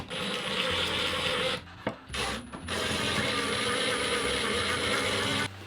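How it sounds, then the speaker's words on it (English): Screws are driven through curtain rod brackets into existing wall anchors, giving a steady close grinding, rasping whir that stops briefly mid-way and then resumes. "Let's see if I can screw these on without pulling everything off the wall."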